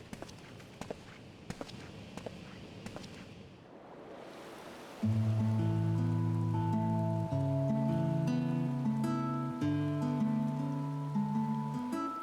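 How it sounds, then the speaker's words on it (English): Rain in the game Final Fantasy XIV: Endwalker, a steady hiss with scattered drops and footsteps, fading before loud sustained game music takes over the second half. "Couldn't we have stayed inside because of the rain?"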